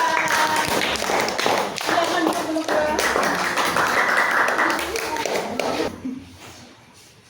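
A group of participants at a teacher training session claps hands together loudly and rhythmically, then the clapping stops abruptly near the end while a voice speaks briefly.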